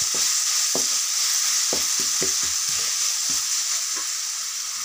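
Tomato egg curry ingredients frying in a pan, a continuous bright sizzle with repeated knocks of a spoon stirring at irregular intervals, close and loud.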